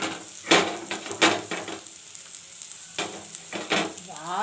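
Amla gooseberries frying in a pan for chutney give a steady close sizzle, broken by several sharp scraping stirs of a spoon against the pan, with no talk.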